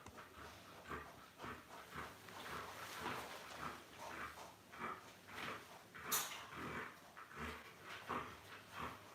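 A big husky dog whimpers and whines in a string of short, uneven cries at close range, with faint movement noise behind it.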